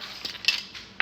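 A spoon stirring a peanut butter mixture in a bowl, several light metallic clinks and scrapes at irregular intervals, close but quiet, with no voices.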